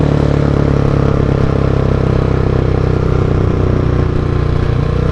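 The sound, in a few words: Husqvarna 701 motorcycle engine with Mivv exhaust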